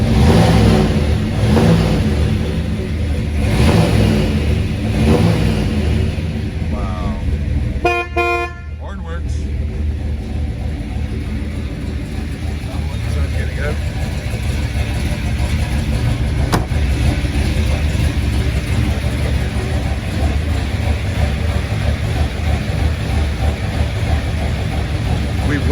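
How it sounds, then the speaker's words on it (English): A 1965 Chevrolet Impala SS with a 409 engine, Muncie four-speed and dual exhaust, rumbling steadily at idle and revving for about twenty-five seconds, loud and close, with a horn-like toot partway through. "Listen to that engine."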